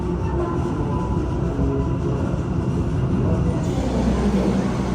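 The KA Mataram executive train, hauled by a CC203 locomotive, speeds through Cirebon Prujakan near the junction with the Semarang line. A loud, steady rail rumble and roar runs unbroken throughout.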